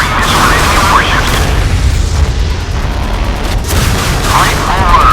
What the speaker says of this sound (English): Firing missile at enemy warships.